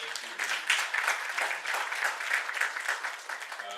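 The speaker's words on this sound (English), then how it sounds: "deserves another round of applause." Audience applause after a scholarly presentation at a formal event, a steady wash of many hands clapping at moderate distance, sustained for several seconds and tapering slightly at the end.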